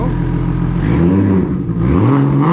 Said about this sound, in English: Yo, give me some revs, bro.